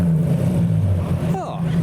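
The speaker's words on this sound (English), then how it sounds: "R32 is revving in the background as well." A Nissan R32 GTR engine revs at a Japanese car show, sitting behind a loud, steady engine drone close by, with a brief rising rev swell near the end.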